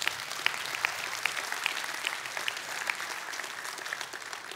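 Sunday church congregation clapping together, a dense sustained round of applause with a few sharper claps poking out, no voices over it.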